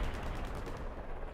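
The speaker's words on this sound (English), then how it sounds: "Rockets." Rockets firing in the Hell Let Loose war game come through as a continuous, distant, rumbling roar of launches and explosions with no clear breaks.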